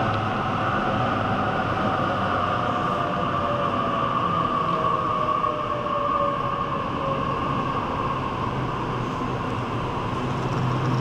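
A Springwood-bound Oscar passenger train arriving at Blacktown station gives a steady, loud rolling rumble with a faint drawn-out squeal, continuous throughout and with no talk.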